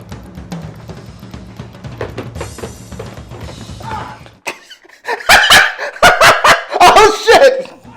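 Dog barking in a chaotic film scene, sharp loud barks clustered in the second half after a stretch of shouting and background commotion, with voices talking over the first part.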